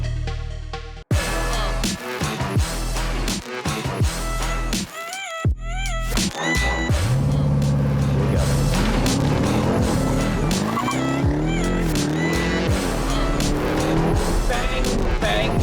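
A Jeep Trackhawk with a 707-horsepower supercharged V8 accelerates hard, its engine roaring loud and close as it climbs through the revs with sharp gear changes and tire squeal, plus a rising supercharger whine, with no talk over it.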